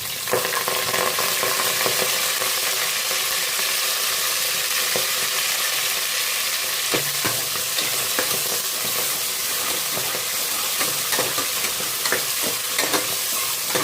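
Chopped onion and fenugreek leaves sizzling in hot oil while being stirred, a steady dense frying hiss with small crackles and occasional scraping, close and continuous with no voices.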